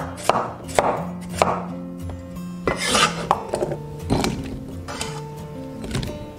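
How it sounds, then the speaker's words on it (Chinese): A knife cuts a peeled white radish into roll-cut chunks on a board, giving about eight or nine crisp, close thunks at an uneven, unhurried pace with short pauses between cuts. "然后切滚刀块。"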